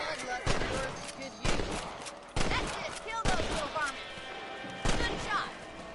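Rifle gunshots in Red Dead Redemption, fired while hunting rabbits, crack out in about five loud, sharp blasts at irregular intervals, with a voice speaking between some of them.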